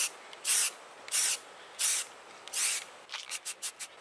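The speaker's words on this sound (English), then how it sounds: "you gotta spray it from both angles to make sure you got the edge of one and the edge of the other" Paint sprayed onto a slatted piece from both angles: four long hissing bursts of about a third of a second each, evenly spaced and close, followed by five quick short spurts at the end, with no talking.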